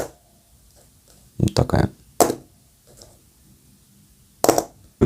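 Fountain pen from an Italian Benelli line dropped onto a surface, giving a few sharp clattering impacts with short bounces, close and fairly loud, followed by a brief word of speech.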